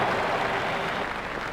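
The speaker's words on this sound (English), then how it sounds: "Crowd are standing to applaud him." Crowd applauding at a cricket match in a one-day international video game, a dense steady wash of clapping and cheering, broad and continuous, with no talk.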